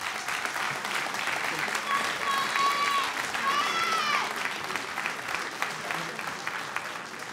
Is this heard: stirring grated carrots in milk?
no